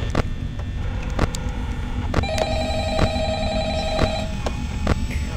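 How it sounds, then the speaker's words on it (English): A telephone rings in the horror video game Five Nights at Freddy's, a single trilling electronic ring lasting about two seconds mid-clip over a low background hum and scattered sharp clicks. "Have I heard this phone ring?"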